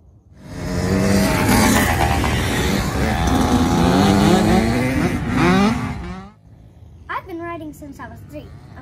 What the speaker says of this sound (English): I'm mostly riding my dirt bike